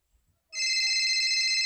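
A phone ringtone starts abruptly and rings on steadily and loud, a bright electronic tone heard alone after a brief near-silence while a call is placed.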